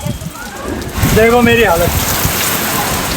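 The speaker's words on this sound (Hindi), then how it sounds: "मौसम बारिश बहुत जल्दी आ चुकी है" Heavy rain pours down in a steady, loud hiss outdoors during an early-season downpour, continuing throughout while someone speaks briefly over it.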